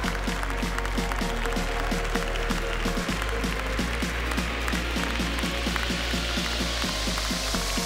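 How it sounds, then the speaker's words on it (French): Audience applause at an animal show, steady dense clapping with a low background hum and rhythmic thumps running under it throughout. "Allez, on les applaudit bien fort, s'il vous plaît,"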